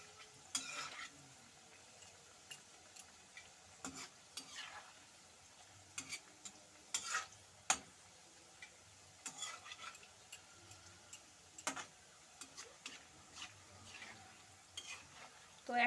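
Kata nimki, crisp cut flour snacks, deep-frying in oil, with a faint, continuous sizzle broken by scattered clinks and scrapes of stirring, all quiet and close with no talking.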